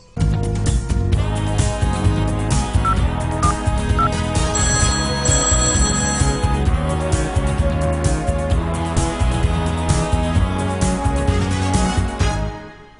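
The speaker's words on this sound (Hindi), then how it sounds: "डायल करते हैं लकी कॉन में अपने लकी कॉलर को फोन" A telephone rings steadily and loudly as a radio show dials out to a lucky caller, a continuous tonal ringtone lasting about twelve seconds, with no talking.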